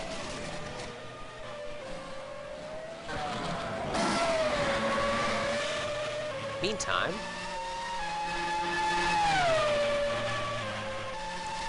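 Race car engines rev and whine through a Grand Prix of Europe race replay, pitch sweeping up and down as cars pass, loud and continuous beneath a commentator's voice.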